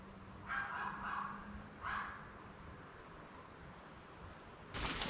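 A small dog barks somewhere far off in the woods at a solo camping spot, two faint short bursts of barking rising briefly above quiet outdoor background hiss.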